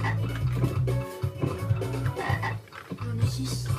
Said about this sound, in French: les grosses grenouilles, je crois que c'est des crapauds